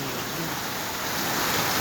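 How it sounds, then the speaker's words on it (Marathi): Dense, loud wash of heavy rain pouring steadily, a broad rushing hiss with no gaps for its whole short length. "पाऊस खूप जोरात आणि दणदनाट आहे"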